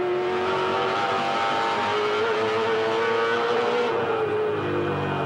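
A 2007 V8 Supercar at the Queensland 300 race, its engine note held loud and close with a droning whine that shifts pitch as it changes gear, no talk.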